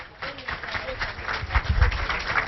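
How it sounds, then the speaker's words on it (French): A crowd at a golf tournament ceremony claps in a short, moderate round of applause, with some low rumbling and voices mixed underneath. "Merci de l'applaudir, s'il vous plaît."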